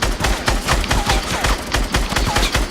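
Rapid bursts of video game gunfire during a build fight, sharp repeated shots in a steady rattling rhythm filling the whole stretch, loud and close with no talking.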